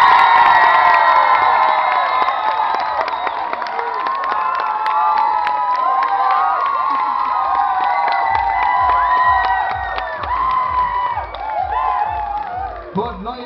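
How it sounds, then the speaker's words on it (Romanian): A crowd of children and adults cheers, whoops and shouts loudly for a contestant named Naomi, sustained and close, with some rhythmic clapping near the end. "Să vedem aplauzele pentru Naomi!"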